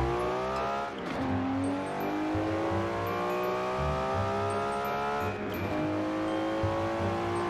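A Nissan GT-R R34 in Forza Horizon 4 accelerates hard, its engine note climbing steadily through two gear changes, loud and close, with no talking.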